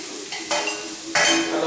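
Pan stir-frying for peppered steak: two bursts of spatula scraping over a constant low sizzle, close and clear, with no voices.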